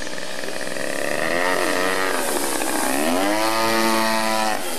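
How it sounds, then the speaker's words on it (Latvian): A single-engine aerobatic airplane flies knife-edge at a Kuldiga air show, its buzzing engine droning loud and steady, pitch sliding down and back up as it passes, heard alone without talk. "Lidmašīna šobrīd lido nazī."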